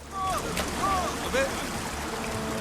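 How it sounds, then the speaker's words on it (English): A large volume of water rushes and churns as it funnels into one spot in a scene from the film Manjummel Boys, a steady broadband roar with voices speaking over it. "just so much water goes moving from one place to the next, you just can't believe it"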